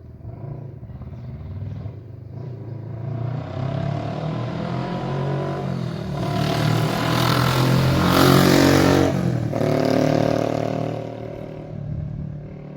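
A 1979 Yamaha XS400 motorcycle engine runs after a bump start, a close, rumbling twin-cylinder burble that swells into a louder rev midway, then settles back to a steady run, with no voices.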